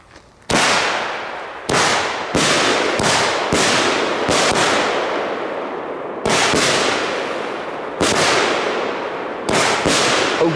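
Belgian firework cakes fire a rapid series of loud, sharp crackling bursts, about a dozen explosive volleys, each trailing off into hissing crackle before the next salvo hits.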